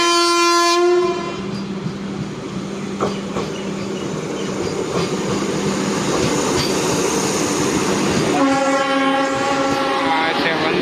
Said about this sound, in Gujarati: હવે વંદે ભારત પાસ થવાની છે